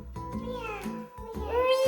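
A young girl imitates a cat with a series of drawn-out, sing-song meows, close and fairly loud, the pitch sliding up and down between short breaks.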